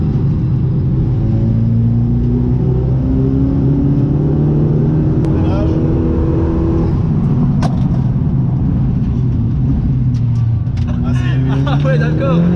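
A 400-horsepower sports car drives in sport mode with a loud continuous engine rumble that rises and falls as it accelerates, heard from inside the cabin while people talk.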